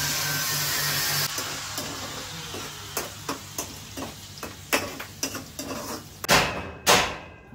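Outdoor construction of a shed and welding work on a metal gate produce a series of irregular metallic bangs and knocks, roughly a dozen, over a steady background hiss and hum. The bangs grow louder near the end, with no talking.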